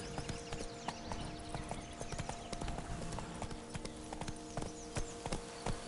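Roach the horse trots in The Witcher video game, a steady run of hoof clip-clops over an ambient game backdrop.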